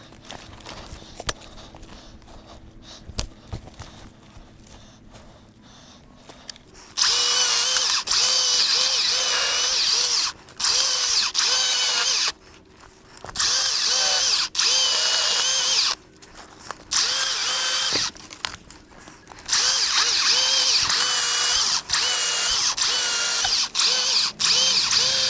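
A chainsaw with a 14-inch bar cuts through a fallen tree about 12 inches thick at the base, its motor revving in loud bursts that alternate with quieter idling pauses, fairly close.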